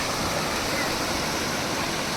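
Steady roar of a waterfall near the stairway at Kondjai Devi temple, a dense, even wash of tumbling water that stays loud and close throughout.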